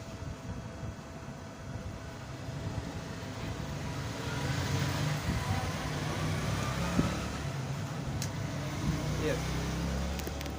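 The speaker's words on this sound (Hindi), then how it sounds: "ये हमारी मोटर अब स्टार्टिंग कैपेसिटर पे चली है" A 2 hp electric motor running on its starting capacitor gives off a steady, moderately loud hum and whir that swells slightly partway through, with voices in the background.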